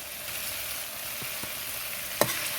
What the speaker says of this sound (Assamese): ইভাগে মই আলু ফ্ৰাই কৰি লওঁ।